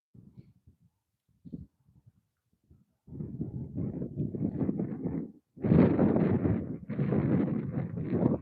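Gusts of wind buffet the microphone in rough, rumbling bursts, starting faintly and growing into strong, sustained blasts, outdoors by an icy trout pond in southeastern Minnesota.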